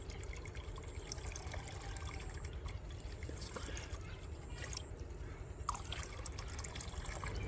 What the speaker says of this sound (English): Then pour it into a 15-liter bucket of water.